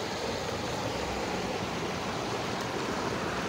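The Menik river at Sella Kataragama flows past in a steady, close, even rush of water with no voices over it.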